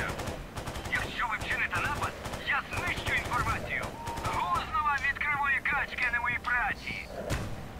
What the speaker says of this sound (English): These bastards started shooting at me.